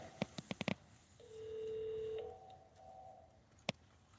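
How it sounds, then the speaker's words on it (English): A desk telephone at a police department gives a single long ring tone, preceded by a quick run of sharp ticks and followed by a brief quieter tone and one click, fairly faint with no talking. "Oh, they're already getting phone calls from the live stream, aren't they?"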